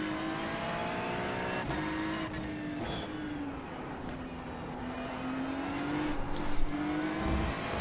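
Race cars at the start of a 6-hour race at Watkins Glen in a racing video game, engines droning steadily with rising pitch as they accelerate, continuous and fairly loud throughout.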